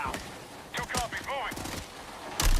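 Gunfire in a video game shooter, several sharp bursts and cracks with a heavier blast near the end, mixed with game sound effects and occasional speech.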